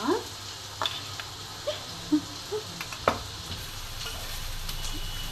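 Spice masala with turmeric, coriander powder, chili powder and ginger-garlic paste stirred in a frying pan for paneer biryani, soft sizzling under scattered scrapes and taps of the spoon, no talk.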